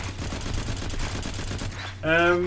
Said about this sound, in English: It certainly seems like bullets are flying from somewhere else here.